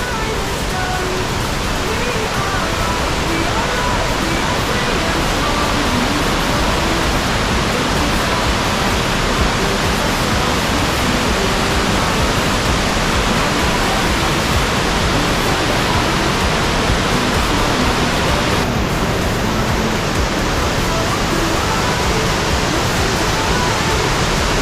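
St Columba Falls in Tasmania's rainforest roars as a loud, dense, unbroken rush of falling water, steady and close throughout with no voices.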